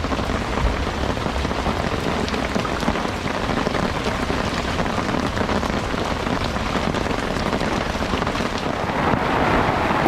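Heavy storm rain pours steadily onto a lake in France, a dense, continuous hiss of drops on the water with a low rumble underneath, no voices.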